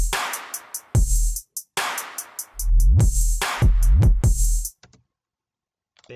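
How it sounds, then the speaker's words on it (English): EDM beat programmed in FL Studio: punchy kick drums with pitch-dropping thumps, a bass pattern and bright ticking hi-hats, looping loud and close before cutting abruptly to near silence for the last second. "I've already laid out a bass pattern and some kick drums and some basic hi-hats and stuff"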